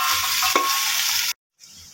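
Potatoes, chickpeas and tomatoes frying in a pot give off a loud, close, dense hiss with a stirring scrape, then the sizzle cuts out abruptly and returns more faintly a moment later.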